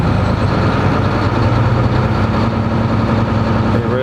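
A heavy truck engine runs at a steady, elevated idle of 1300 RPM during a parked aftertreatment regen, a continuous low rumble with a constant droning hum throughout.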